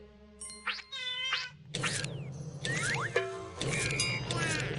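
In the Putt-Putt cartoon game, a cat gives a series of high, swooping meows and chirpy cries, several short animated calls in quick succession over quiet background music tones.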